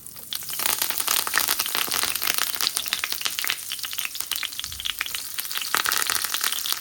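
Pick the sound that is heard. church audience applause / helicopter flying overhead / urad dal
urad dal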